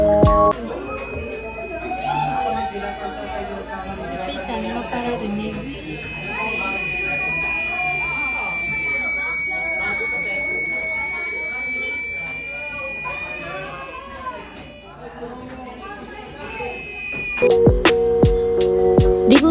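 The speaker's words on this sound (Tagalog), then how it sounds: "A buzzer connected to a potentiometer can create a simple variable tone sound." A small electronic buzzer wired through a potentiometer sounds a thin, steady tone that slowly wavers in pitch for most of the stretch, mixed with busier sound underneath, before a louder change near the end.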